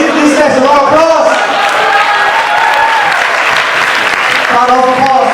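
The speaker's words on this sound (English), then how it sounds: "Let's give these guys a round of applause" Loud applause from an audience at a finale event in Singapore, dense and steady throughout, with whoops and shouting voices rising over the clapping.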